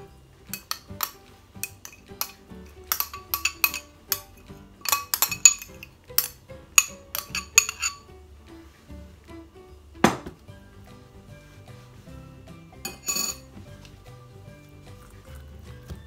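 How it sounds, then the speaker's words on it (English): Cooked rice and fried silverbeet are mixed in a bowl, with irregular clinks and taps of a utensil against the dish, busy at first, then sparse with a couple of sharper knocks. "Mix half of the rice with the fried silverbeet mixture."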